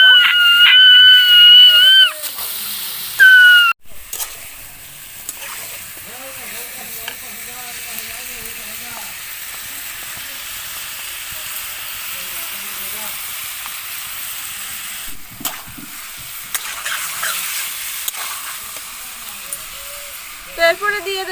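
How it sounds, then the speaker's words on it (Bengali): Chicken stir-fried with spices in a pan for Kashmiri chicken gives a soft, steady sizzle and hiss throughout, with someone talking over it for much of the time and occasional stirring scrapes. "ভালোভাবে আমি চিকেনটার সাথে মশলাটা কষিয়ে নেব।"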